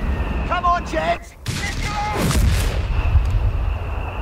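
Mortar fire rings out in a Company of Heroes 3 battle, with heavy booms and blasts layered over shouted unit voices, radio chatter and constant combat noise.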